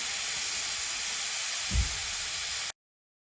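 Steam hisses steadily from the release valve of an Instant Pot pressure cooker while chicken wings cook, a loud, even rush with a brief low thump near the end before it cuts off.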